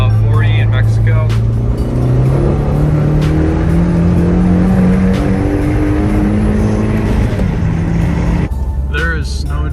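Turbocharged Audi TT pulling hard in third gear from about 40 on a snowy road, engine note climbing steadily through the rev range, loud and close, ending with a shift and drop near the end.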